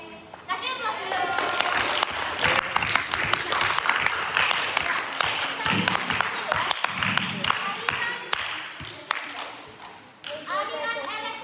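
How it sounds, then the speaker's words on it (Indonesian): A classroom bursts into applause, children clapping steadily for several seconds while kids' voices chatter over and around the claps. "Kasih aplaus dulu."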